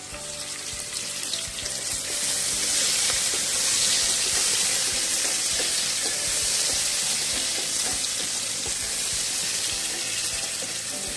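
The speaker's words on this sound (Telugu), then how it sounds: "ఇంకా ఇది ఉల్లిపాయలు కొంచెం బ్రౌన్ రావాలండి, ఇంకా వేగాల" Onions frying in a pan until browned, a dense, steady sizzle that stays loud and close throughout, with faint stirring underneath and no talk.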